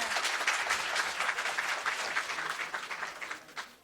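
Applause fills a public conference hall for honoured women, a brisk, even clatter of many hands that stays fairly quiet overall and tapers slightly toward the end.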